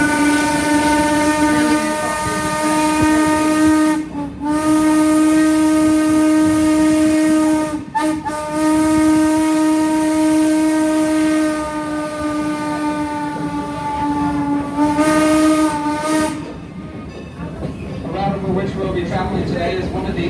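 A Strasburg Railroad steam train sounds its whistle in long, loud, sustained blasts broken by two brief gaps, then the whistle stops and a rumbling train sound carries on.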